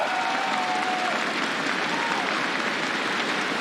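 A large crowd applauding champions on stage at an esports tournament's championship day, sustained dense clapping mixed with cheering, steady and loud throughout, with a faint voice in the background.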